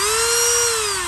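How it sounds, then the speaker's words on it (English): A cordless Dremel rotary tool runs steadily at high speed, a strong whine with one clear tone alone for about a second, close and loud. "Well, I never saw a cordless Dremel."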